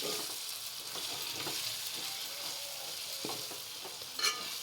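Chilli powder stirred into a frying jackfruit gravy in a pan, with a steady soft sizzle under repeated scraping stir strokes and a brief clink near the end, close and moderate.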